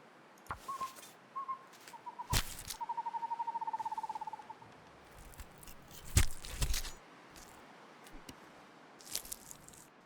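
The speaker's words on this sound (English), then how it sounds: "Wildlife are coming to life at night. You can hear the owl." Owl hooting at night in The Long Dark video game: a faint, rapid trilling call with a few short hoots before it, over quiet ambient wind, with scattered louder clicks and thumps.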